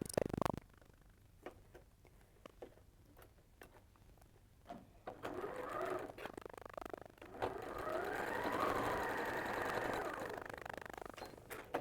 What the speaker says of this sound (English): just depends which way you sew them on